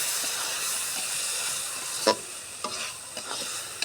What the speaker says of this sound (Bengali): মসুর কড়াইটা সুন্দর করে একটু কষায় নেব।